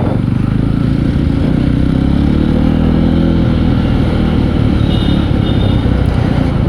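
A Yezdi Roadster motorcycle pulls away in first gear, its engine rumbling loud, close and steady throughout with heavy low-end thrum and some wind noise.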